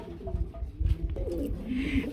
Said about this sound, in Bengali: আরেক জোড়া রেসার কবুতরে চলে আসছে